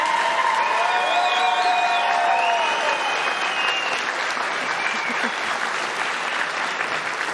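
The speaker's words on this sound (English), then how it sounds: "Please give a huge round of applause to our 2 finalists." Crowd in a pool championship arena applauding the two finalists after the US Open final, loud sustained clapping with some cheering, while faint tonal music-like sounds drift in early on.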